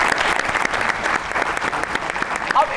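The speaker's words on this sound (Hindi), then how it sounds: "तालियां।" A crowd claps steadily and densely for a few seconds, a full round of applause filling the room.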